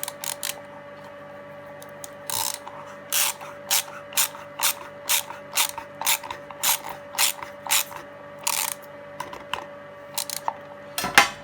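A ratcheting wrench clicks in a steady series of short bursts, about a dozen strokes, tightening an 8 mm hex bolt on rear brake pads of a BMW F46, with a faint constant hum beneath.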